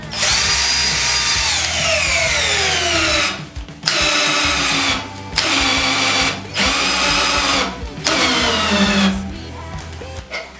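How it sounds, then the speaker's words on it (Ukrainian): A Worcraft cordless drill driver strains to drive a 6x150 screw, its motor whining loudly and close in several bursts that slow and drop in pitch under load, separated by short pauses. "Ні, важкувато йому закрутити 6 на 150, дуже важко."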